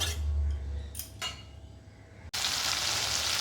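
Potatoes sautéing with spices and a splash of water in a pan for a fish and potato curry, giving a steady close sizzle with brief utensil scrapes, then a louder hissing burst near the end.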